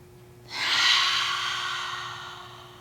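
A single forceful breath-of-fire exhale, a sudden loud rushing breath through the nose that swells and slowly trails off, close and alone with no talk.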